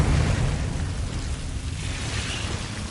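A Confringo blasting spell explodes in Hogwarts Legacy, a loud rumbling blast with a heavy low-end roar that fades slowly over a few seconds.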